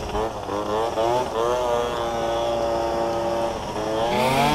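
A modified Yamaha Jog scooter with a replacement carburetor revs steadily, its buzzing engine tone rising and falling in pitch. The sound is close and continuous, with no talking.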